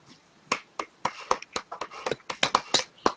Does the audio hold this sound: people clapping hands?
yes